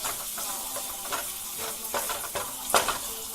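Ginger and shallots sizzle in a pan with a quiet, steady crackle, broken by several brief stirring scrapes and clinks close by.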